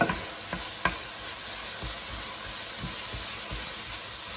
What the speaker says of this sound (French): tu mélanges bien. Pour que ça s'incorpore bien dans la viande.